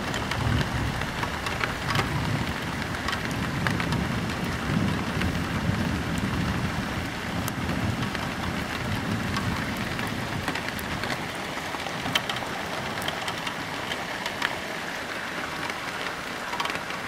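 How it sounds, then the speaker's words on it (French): A night thunderstorm over Amboise brings steady rain drumming on surfaces throughout, with low rumbles of thunder rolling underneath; the downpour stays dense and continuous, with no voices. "Tout le temps un éclair, du tonnerre, un éclair, du tonnerre."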